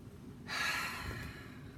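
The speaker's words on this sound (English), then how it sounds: "Everybody just take a deep breath." A single deep inhale-and-exhale breath taken at a calm moment, a soft breathy rush starting abruptly and fading over about a second, close and alone.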